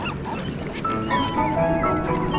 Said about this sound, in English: we encounter a bunch of excited seagulls and stop to investigate